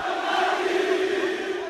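About 150 Fluminense supporters cheer and sing to welcome new signing Paulo Henrique Ganso on his arrival in Rio de Janeiro, a steady, dense crowd chant held at an even level throughout.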